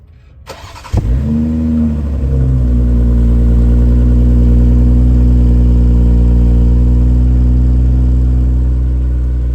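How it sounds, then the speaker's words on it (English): A BMW X6 xDrive40i starts remotely with a brief crank and flare, then settles into a steady, smooth, fairly quiet idle that holds for several seconds, close by with no talking. "I'll actually do a quick startup for you just so you can hear what it sounds like."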